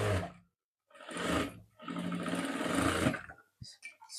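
An electric sewing machine runs in several bursts while stitching a coat shawl collar, with a short run, a pause, then a longer steady run that ends with a few quick clicks, loud and close.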